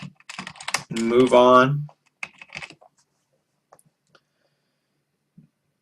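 Keys on a computer keyboard tapped while building slides, a short stretch of speech first, then scattered, fairly quiet keystrokes with gaps of silence.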